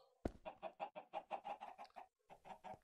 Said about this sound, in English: I don't want to hear your your dirty chicken calls.